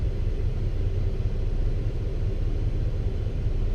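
An empty truck with a 13-speed transmission pulls away from a red light in second gear, giving a loud steady low engine rumble heard close up from inside the cab, with no talking.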